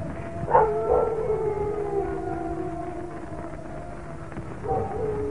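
A howling wind in a night-time horror film scene, a long eerie wavering wail that swells and fades, with a second rising howl near the end, no talk.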